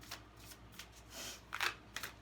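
Tarot cards shuffle close by in quick papery riffles and soft slides, a few bursts of flicking over two seconds, fairly quiet with no talk.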